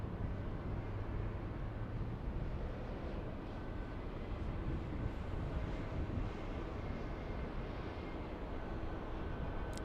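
A Delta airliner on Flight 2914 from Seattle arrives at LAX, heard as a steady, low jet rumble that holds evenly throughout with no voices.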